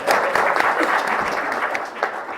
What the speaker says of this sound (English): I think we still have a few seconds to give her another round of applause.